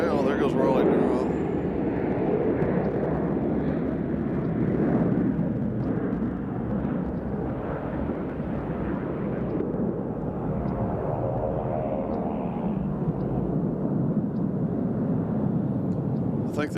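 Cessna SkyCourier aircraft passing at Nashville International Airport, a steady engine roar that fades gradually while people talk over it.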